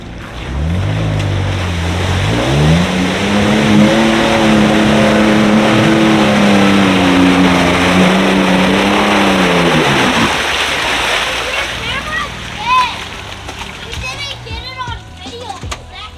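Toyota Tacoma pickup with rear differential locked, in second gear, revving hard through a flooded mud hole in a forest; a loud, rising engine drone with water churning and splashing, and voices talking and shouting inside the cab.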